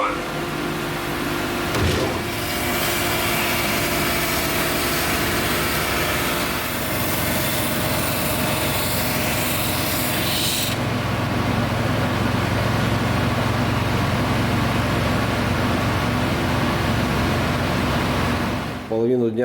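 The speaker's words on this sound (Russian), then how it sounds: "Половину дня потратил на шлифование." A steady mechanical drone from a drum sanding machine working an end-grain walnut and birch cutting board, running continuously with a shift in tone midway before stopping abruptly at the end.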